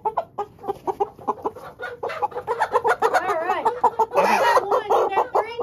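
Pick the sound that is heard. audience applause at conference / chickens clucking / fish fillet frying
chickens clucking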